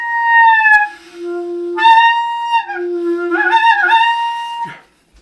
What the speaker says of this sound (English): you play a high C and then wiggle your tongue around in your mouth,